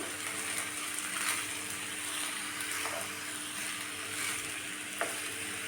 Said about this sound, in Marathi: व्यवस्थित छान आता आपल्याला भात परतून घ्यायचा आहे